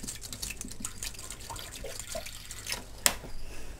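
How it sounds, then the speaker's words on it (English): Water trickles and drips while a bottle is filled for a bearded dragon vivarium, faint and close, with small splashes and one sharp click near the end. "Bottle of water. Let's fill it up."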